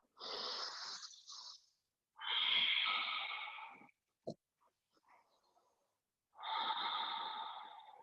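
Deep, audible breaths drawn close to the microphone during a vinyasa yoga flow, three long rushing inhales and exhales with raspy, slightly nasal texture, separated by quiet pauses and a brief click.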